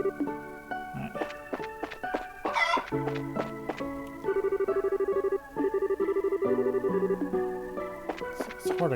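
Chickens in the video game Trails in the Sky cluck in short repeated bursts over bright game music and chiming effects, with a rapid run of pecking clucks midway.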